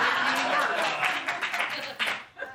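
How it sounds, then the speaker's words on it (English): Studio audience clapping and laughing on a late-night talk show, a dense steady wash of applause that thins out toward the end. "don't clap too loud"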